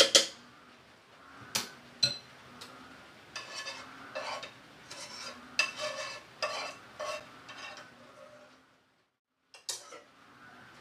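Kimchi mixture being mixed by hand in a bowl, a run of close wet squelching and scraping strokes with occasional sharp clinks, uneven rhythm, pausing briefly near the end.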